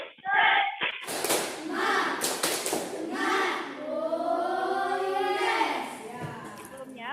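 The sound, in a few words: class doing a rhythmic spirit clap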